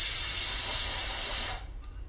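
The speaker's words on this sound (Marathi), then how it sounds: "तोपर्यंत इकडं कुकरच्या शिट्ट्या होऊन जाते त्या 5-7." A pressure cooker whistle releases steam in a loud, sharp, sustained hiss close by, lasting about a second and a half before cutting off into quiet.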